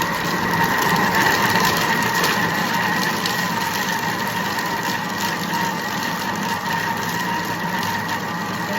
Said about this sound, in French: Et là, je vais aller 30 secondes en mode mixage